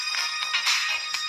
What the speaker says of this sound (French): Ça, c'est la sonnerie que j'ai réglée